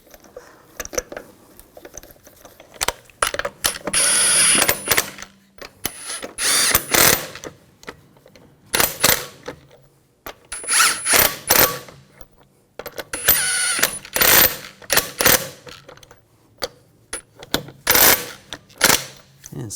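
A power tool on a 2000-2006 BMW X5 snugs down the wheel lug bolts in several short bursts of whirring and rattling clicks, separated by pauses.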